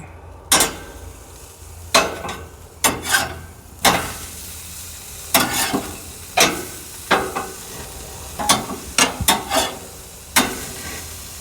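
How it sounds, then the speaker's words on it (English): Burgers cooking on a grill, flipped with tongs: a steady low sizzle under a series of sharp metallic scrapes and clanks at irregular intervals, close and fairly loud. "Let's give these burgers a flip."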